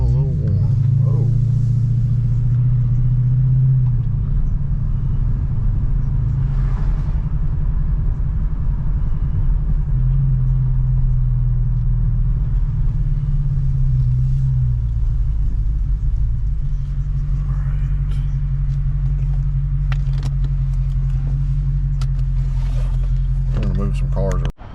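A 2019 Dodge Challenger Scat Pack with a Shaker hood, idling for a long stretch after a water pump gasket repair; a steady, deep, loud low rumble continues throughout, with occasional faint voices over it.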